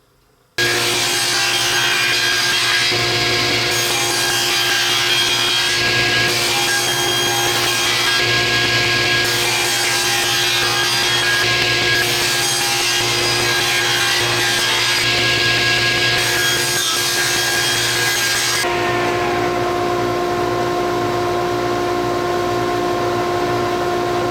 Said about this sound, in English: we can turn our attention to the cherry pieces and cut all of them as well